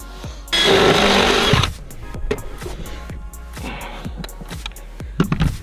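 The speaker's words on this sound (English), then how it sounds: "the drill bit went in, and it felt like it hit sponge" A power drill bores through an interior wall while ethernet cable is run from attic to TV: a loud steady whine for about a second, then quieter scraping and ticking handling noises.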